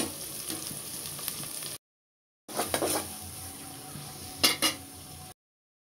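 Fish frying in a pan gives a steady, close sizzle that cuts out into silence for a moment, then resumes with a few sharp clinks of a utensil near the end.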